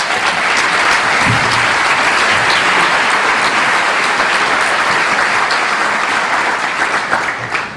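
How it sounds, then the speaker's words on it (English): An audience at a Vermont leadership summit applauds in a steady, dense round of clapping that keeps up for several seconds before easing slightly at the end, with no voices over it. "Let's have another round of applause."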